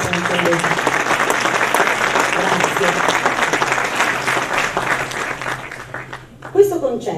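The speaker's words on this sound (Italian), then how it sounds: "prego, un applauso anche a lei" Concert audience in a theatre applauding a Ukrainian chamber orchestra, steady dense clapping filling the hall for about six seconds, then thinning out as a voice begins speaking near the end.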